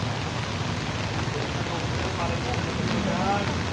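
Steady heavy rain pours down as a dense, even hiss beside a flooded creek, with distant murmuring voices faintly underneath.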